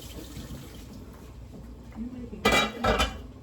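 Pots are handled in a home kitchen while watermelon rind pickle is being made. Soft clinks come first, then two loud metallic clatters and scrapes near the end, with light water sounds under them.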